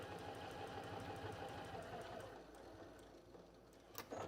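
Sewing machine stitching fabric while making a needle book, a steady, fast mechanical whir that runs continuously, then quiets and slows before a few brief clicks at the end.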